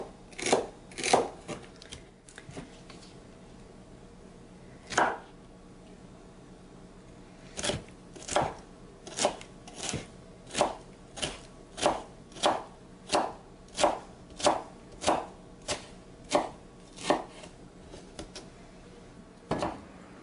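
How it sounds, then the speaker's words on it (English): A knife chops onions and potatoes on a cutting board in crisp, sharp strikes, scattered at first, then settling into a steady, fairly quick rhythm, close and alone with no talking. "You want to finely mince your onions. With the potatoes, you want those chopped pretty small"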